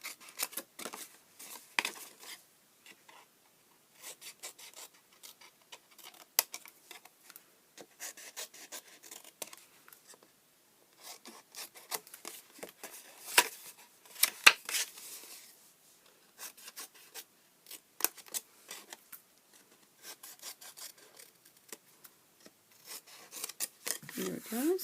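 Scissors snip through paper pieces for a small Easter flip-top box in short, separate, close cuts with quiet pauses between them, plus some light rubbing and handling of paper.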